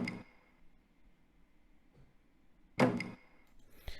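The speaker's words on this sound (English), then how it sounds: "that sound has like a layered percussion element. If you notice, there's like a tom drum, and also like what do they call that? It's like a shaker" A quiet layered percussion hit from a beat combining a tom drum and a shaker sounds twice, once at the start and again near the end, with a faint softer tap in between and a brief click at the close.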